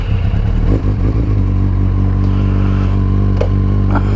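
Loud, close motorcycle engine running cold with a low, rough rumbling idle and uneven throttle surges, accompanied by some mechanical clatter and a brief scrape.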